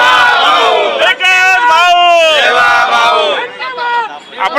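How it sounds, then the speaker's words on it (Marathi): A celebrating crowd of Fadnavis supporters in Nashik, with coloured gulal powder being thrown, shouts 'Bhau, Bhau' slogans in loud, rhythmic, repeated chants that swell and ebb close by. "जल्लोष साजरा केला जातोय आणि एकच भाऊ भाऊ अशा घोषणा देखील दिल्या जात आहेत"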